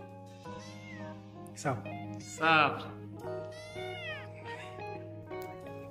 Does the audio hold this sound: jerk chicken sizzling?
no